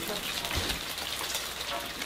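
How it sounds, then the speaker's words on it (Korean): Sudden rain falls on a traditional Korean hanok house, making a soft, even, continuous patter and hiss that stays fairly quiet and steady, with no voices. "갑자기 내리는 비마저 한옥에서는 낭만."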